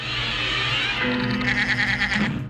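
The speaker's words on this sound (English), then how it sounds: "a rooster bleating like a sheep" A Tom and Jerry cartoon rooster gives a long, wavering sheep-like bleat, loud and close over a steady low hum.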